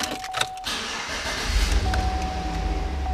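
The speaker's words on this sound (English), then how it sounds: "Fires right up." A used Chevrolet Avalanche engine starts after a short electric crank and settles into a low, steady idle heard from close by.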